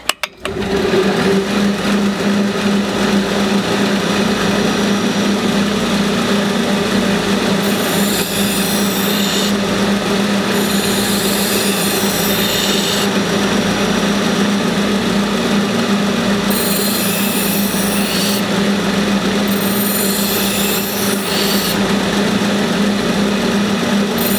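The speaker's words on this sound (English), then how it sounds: "I actually put my final edge on with a dull-ish or well-used 600 grit Norax belt" A belt grinder puts the final edge on a fixed-blade knife against a worn 600-grit Norax X30 belt, giving a loud, steady mechanical whir throughout, with repeated bursts of hissing abrasion as the blade makes passes across the belt.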